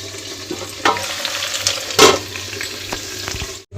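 Oil sizzles and crackles in a pan while tomato, garlic paste and curd cook, with stirring scrapes and sharp bursts of spatter close by.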